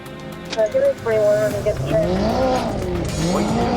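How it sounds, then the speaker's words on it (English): A Corvette accelerates hard during a police chase, engine roaring and rising in pitch with tire noise, partly under a voice talking over it. "As soon as the trooper's lights came on, the Corvette floored it."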